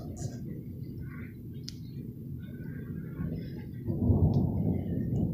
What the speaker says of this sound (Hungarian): Na onnan valahonnan villámlott.